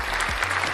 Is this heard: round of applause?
yes